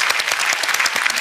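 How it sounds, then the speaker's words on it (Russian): Studio audience on a game show applauding, a brisk patter of many hands with quick rhythmic clap bursts, fairly close and steady for a brief moment. "Тут аплодисменты, знакомьтесь с командой"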